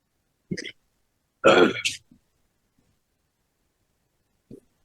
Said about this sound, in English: Let me clear my throat here a little bit.